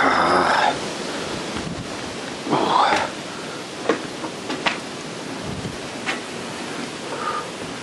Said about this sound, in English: this wind is a little bit cold out here